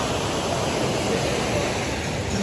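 Ezeagu waterfall pours over rocks, a steady broadband rush of falling water that fills the scene evenly and stays constant from start to finish, with no voices over it.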